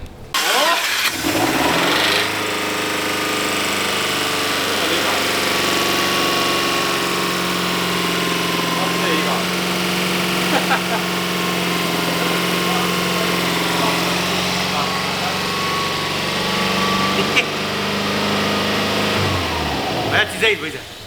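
A Subaru boxer engine cranks and catches near the start, then idles steadily and loudly for about twenty seconds with a harmonic hum. People talk over the running engine.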